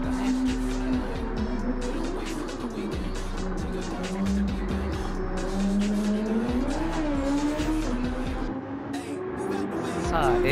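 A Super Formula race car in Gran Turismo 7 holds a loud, steady engine whine that rises and falls with gear changes and corners, with some tire noise, under a commentator's talk.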